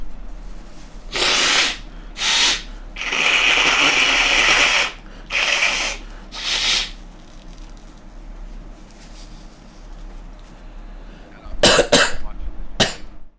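Someone blows their nose hard and close into a microphone turned up to full volume, producing several long, harsh, breathy bursts followed by a few sharp snorts near the end.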